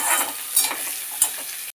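Onions dropped into hot oil in a wok, sizzling and frying up close with a couple of sharp stirring scrapes over less than two seconds.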